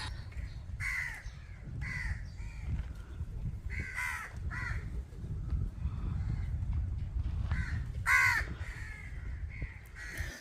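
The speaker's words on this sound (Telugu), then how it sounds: "మీకు వినిపిస్తున్నాయా కాకులు అరిచేది?" Many crows caw in a coastal town on the way to Dhanushkodi, with repeated harsh calls arriving in irregular bursts over a low rumbling outdoor background, some nearby and loud.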